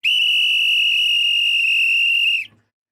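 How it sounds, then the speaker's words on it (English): A football referee blows a single long, loud, steady whistle blast for the final whistle of a World Cup match between Norway and Ivory Coast, holding it for about two and a half seconds before it cuts off abruptly. "there it is. There's a final whistle."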